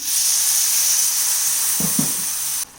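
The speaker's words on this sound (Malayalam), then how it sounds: "പുളിവെള്ളം ഒഴിച്ചു കൊടുത്തിട്ടുണ്ട്." Tamarind water hits a hot pan of onion sambar, a steady bright sizzling hiss with a couple of soft clunks near the end before it stops abruptly.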